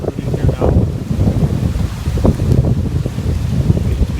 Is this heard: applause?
no